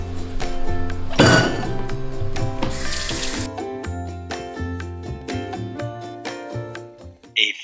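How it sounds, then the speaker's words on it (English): Dishes, pots and utensils being washed up in a home kitchen after baking vegan banana bread, with repeated clinks and clatters of crockery close by and a brief burst of running water. "Now while we wait, let's wash up our mess."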